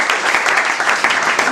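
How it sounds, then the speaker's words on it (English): A competition audience claps together for a contestant, a dense, steady burst of applause filling the room with overlapping hand claps, close and loud throughout. "Clap your hands for Mr."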